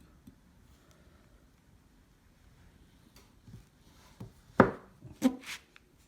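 A knife cuts sucre à la crème fudge into squares. Quiet at first, then a few sharp, close chopping taps on a board cluster near the end.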